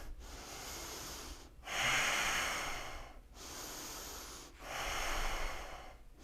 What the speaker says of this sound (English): let's give it 3 more breaths